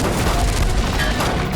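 Gunfire in a CID television crime drama, delivered as a dense, steady barrage of booming shots with no pauses, loud and close, and no voices over it.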